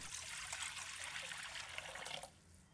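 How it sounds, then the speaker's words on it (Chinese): Clear water pouring into a cooking pot, a soft splashing trickle lasting about two seconds before tapering off, faint and alone. "倒入清水"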